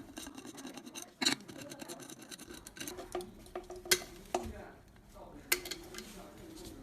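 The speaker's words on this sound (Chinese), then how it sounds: "这儿有3颗螺丝，把这3颗拧下来，它就能拆下来" Small screws are turned out one by one to free a faulty coupler, giving quiet metallic scrapes and a few sharp clicks against a low room background, with a voice faintly present.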